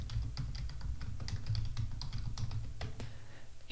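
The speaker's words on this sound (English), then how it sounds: "hit enter, type in your password" Password typed on a computer keyboard while logging into a remote server by SSH: a quick, irregular run of light key clicks over steady low room hum, ending in a sharper final keystroke like the enter key.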